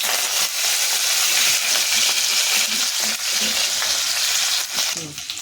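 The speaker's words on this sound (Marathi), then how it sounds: "फोडणीसाठी तेल टाकलं जिरे मोहरी लसूण आणि मिरचीची पेस्ट" A loud, continuous sizzle and crackle of cumin, mustard seeds, garlic and chili paste frying in hot oil fills the whole stretch, close and intense, with faint stirring scrapes.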